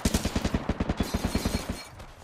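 Rapid, evenly spaced gunshots from a Flatline rifle in Apex Legends, about twenty punchy reports in a tight steady rhythm that stop abruptly, leaving a short fading tail.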